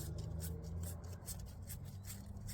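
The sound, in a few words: sandpaper rubbing inside a copper fitting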